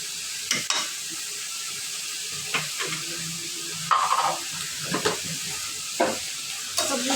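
Vegetables stir-fried in a pan with salt added, giving a steady soft sizzle broken by repeated scraping and stirring strokes of a utensil, close and moderately loud with no talking.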